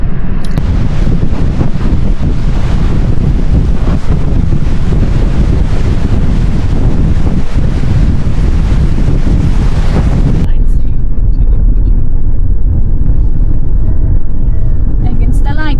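Southern Ocean surf and strong wind roar close and loud, with heavy buffeting on the microphone for about ten seconds before easing to a steadier wash of waves.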